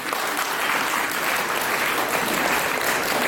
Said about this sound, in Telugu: మీ అందరి హర్షధ్వానాల మధ్య